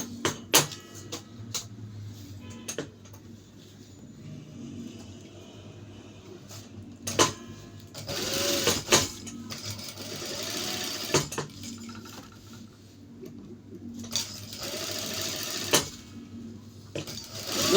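A sewing machine stitches a shirt collar in a home setting, running in short bursts separated by pauses with soft clicks and handling noises, close and fairly loud, with no one talking.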